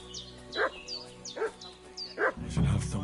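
A dog barking in Kingdom Come Deliverance 2: three evenly spaced, insistent barks at a moderate distance, backed by a steady ambient hum and a thicker rumble toward the end.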